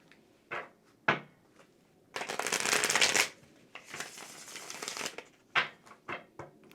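A Thoth tarot deck is shuffled in two bursts of crisp card riffling, each about a second long, with taps and card knocks before and after.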